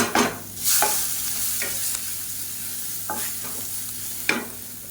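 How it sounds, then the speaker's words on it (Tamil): Homemade rasam powder with fenugreek and dried chillies sautéing in a pan, a soft steady sizzle broken by several sharp spatula scrapes and stirs, close and without speech. "சேர்த்துட்டு லேசாக வதக்கி விட்டுக்கலாம்"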